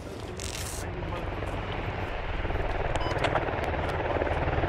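Helicopter approaching in the video game Escape from Tarkov, a steady loud rotor drone building slightly over a few seconds, with faint voices talking underneath.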